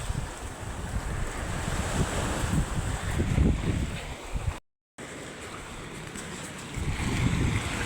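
Sea waves wash in steadily beside the shore, a continuous close surf roar mixed with wind buffeting the microphone and a brief dropout partway through.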